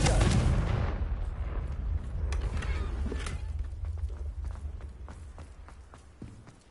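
A Confringo fire spell cast in Hogwarts Legacy bursts with a loud explosive blast at the start, then rumbles and crackles as it fades over several seconds, with scattered thuds and debris-like clatter afterward.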